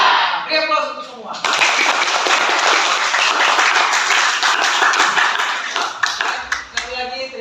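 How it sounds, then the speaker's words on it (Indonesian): A classroom bursts into loud, sustained clapping from many hands right after a teacher speaks, lasting several seconds before tapering off as talking resumes. "Beri aplaus untuk semua."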